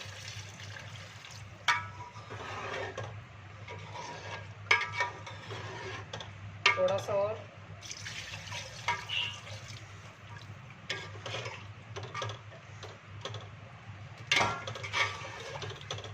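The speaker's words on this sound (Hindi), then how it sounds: "इसमें मैं अभी पानी डालूंगी।" Water poured into a cooking pot of beef trotters for paya, a continuous splashing pour with a few clinks of the pot, while someone speaks briefly.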